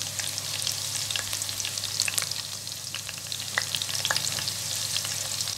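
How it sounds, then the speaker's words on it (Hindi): Green chillies frying in oil in a pan for a Bengali-style fried okra dish: dense close sizzling and popping with scattered crackles and a faint low hum underneath, no voices. "हरी मिर्चें, इसे 1 मिनट फ्राई करेंगे।"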